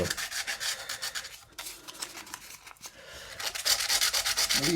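Fret ends on a Gibson Les Paul Junior guitar being filed and rubbed, a close, steady back-and-forth rasping in quick strokes, pausing briefly midway before resuming more strongly.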